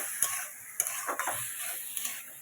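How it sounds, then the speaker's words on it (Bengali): Soft sizzling in a hot pan as boiled potatoes and other ingredients are fried and stirred for aloo dum, with scattered scraping clicks from the spoon; close and fairly quiet, no voices. "এটাও একটুখানি ভাজা ভাজা হবে, একটু কষানো হবে"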